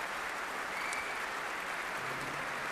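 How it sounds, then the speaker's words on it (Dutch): A nearly sold-out main concert hall audience applauds steadily after a performance of Bach's Mass in B minor, the dense, even clapping filling the room without pause as five vocal soloists take their bow. "Het publiek in de zo goed als uitverkochte grote zaal klapt voor de vocale solisten"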